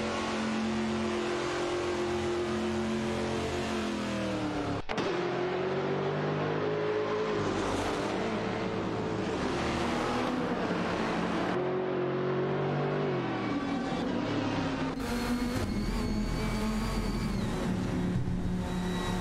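Race cars in a video game, a Ferrari 550 GTS and a Chrysler Viper GTS-R, fight closely for position on track, their engines droning loudly and continuously with rising and falling revs, pitch shifts and abrupt gear changes, no voices.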